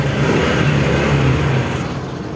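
A Honda XRM125 motorcycle engine runs steadily close by, a continuous mid-pitched motor drone with a slight rise in revs before settling, with no talking over it.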